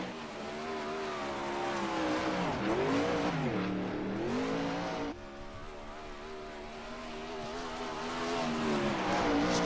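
A race car in the iRacing video game runs flat out on the Oswego Speedway dirt track, its engine whining steadily and rising and falling in pitch as it lifts and powers through the corners, loud and continuous.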